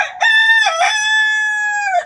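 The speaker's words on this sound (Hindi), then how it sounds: "ये हमारी सब मुर्गियाँ खुली हुई हैं" A rooster among free-roaming backyard chickens crows once, loud and close, a long drawn-out cock-a-doodle-doo that stands alone against near silence.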